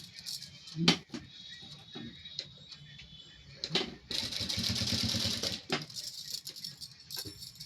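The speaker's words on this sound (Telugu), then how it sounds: "ఇక్కడ కూడా సమంగా చూసుకొని స్టిచ్చింగ్ చేసుకోవాలి" Sewing machine stitching along a T-shirt button placket, with a sustained burst of rapid mechanical chatter in the middle, framed by scattered clicks, taps and handling noises at close range in a quiet room.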